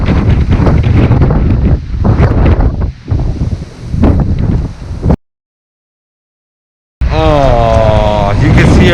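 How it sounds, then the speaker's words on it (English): Strong wind buffets the microphone outdoors at an abandoned boat harbor, a loud roaring rush that cuts out briefly and then returns, with a voice speaking over the gusts. "It's too windy."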